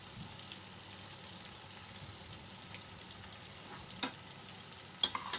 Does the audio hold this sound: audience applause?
no